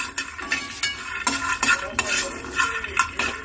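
Coriander seeds roasting in a pan on a low flame, stirred with a metal spoon in quick scraping, rattling strokes over a faint sizzle.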